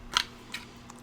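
Scissors snip through paper for a snowflake gift card box, two crisp close cuts followed by a faint third, quiet and isolated.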